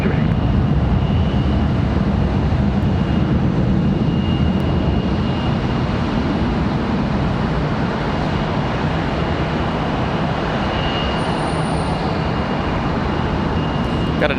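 An American Airlines jet departing Charlotte Douglas for Phoenix, a steady loud roar of engines sustained throughout, with a faint high whine above the broad rumble and no voices.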